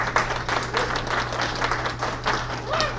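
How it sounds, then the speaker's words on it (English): Applause from an audience at a business launch event, a sustained burst of many hands clapping at moderate loudness under a low steady hum. "Let's give a round of applause to ourselves."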